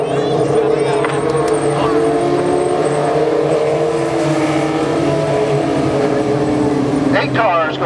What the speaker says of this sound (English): Eight cars going eight laps.